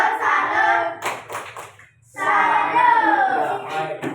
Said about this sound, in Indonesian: Ya, kita tepuk salut dulu untuk kita semua ya.